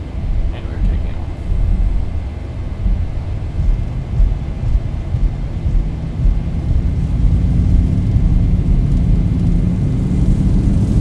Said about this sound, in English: and we're taking off